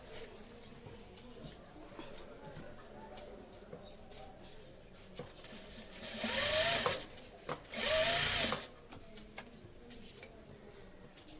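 A sewing machine stitches a back neck design on a blouse in two short bursts of rapid mechanical whirring, with quieter handling and faint ticking around them.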